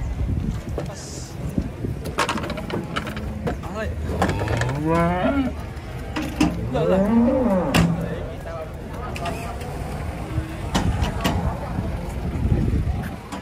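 A large pregnant cow is unloaded from a truck, lowing in several drawn-out moos over clattering knocks and bumps, while people talk nearby.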